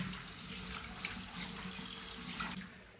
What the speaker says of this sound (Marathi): तर अशा पद्धतीने आता मी हा पॅन धुवून घेते